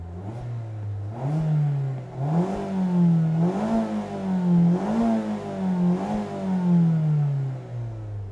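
A 2-litre naturally aspirated engine in a 2024 Mazda MX-5 with automatic gearbox revs repeatedly, rising and falling in several close, loud pulls with a raspy edge and some bass, no talk over it.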